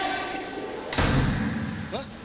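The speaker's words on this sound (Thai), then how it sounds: "ประตูปิด" One sharp, heavy door slam with a booming thud, close and loud, fading into a brief resonant tail over a quiet indoor room.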